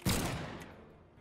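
A single Blaster neutral-light shot in the fighting game Brawlhalla fires one bullet: one sharp close blast that decays quickly into a short fading tail, with nothing else around it.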